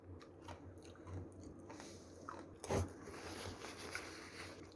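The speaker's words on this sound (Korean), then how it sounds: "샤인 머스켓부터 먹어" Close, soft chewing of Shine Muscat grapes and strawberries, with wet squishy bites and one louder crunchy bite near the middle, in a quiet setting with no speech.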